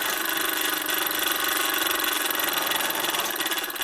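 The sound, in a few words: Bowman M158 model steam engine running on air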